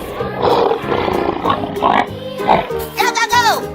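A lion roaring in a series of growling, rumbling bursts, close and fairly loud, mixed with grunting animal noises and a high swooping tone near the end, all under an overlapping voice.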